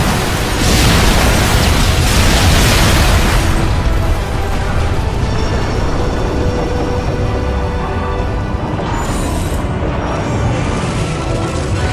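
Explosions from the Modern Warfare 3 video game campaign boom loudly, a dense, sustained roar of blasts and debris with bursts of crackle and mechanical noise, filling the whole stretch without voices.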